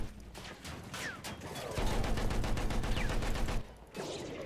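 Machine guns fire in the World War I shooter game Battlefield 1, with sustained rapid bursts of gunfire. The fire thickens into a dense, continuous fusillade in the middle, then breaks off briefly before shots resume.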